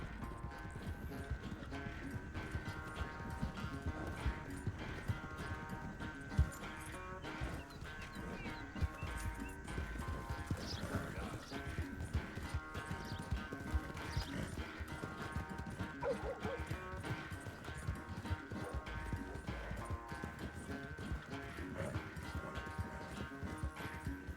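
Horse hooves clip-clopping at a gallop during a race in the video game Red Dead Redemption 2, a steady dense beat running the whole time under a constant layer of game music and ambience.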